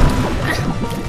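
A bomb blows up in The Binding of Isaac, a single loud, crunching game explosion lasting about a second with a short rumbling tail, heard alone.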